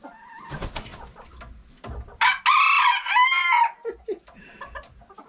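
A rooster crows loudly and close by among chickens that cluck and chatter in short bursts, with a few soft sounds in between and no talk.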